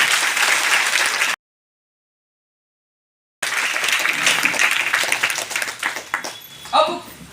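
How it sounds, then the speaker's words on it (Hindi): An audience at a motivational talk applauds in a burst of thick clapping that cuts out briefly to silence, then resumes and tapers off as voices come through at the end. "एक जोरदार ताली।"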